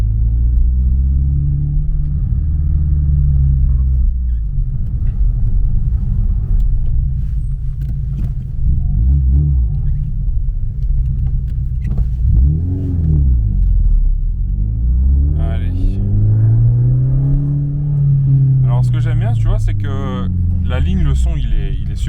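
A Peugeot 306 Maxi with a TU engine idles with a deep rumble, then revs in several rising and falling sweeps at close range, while people talk over it.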